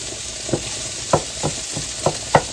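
Sausage cooking in a pan in a home kitchen makes a soft, continuous sizzle, broken by several sharp pops or utensil taps spaced roughly half a second apart, nearby and without speech.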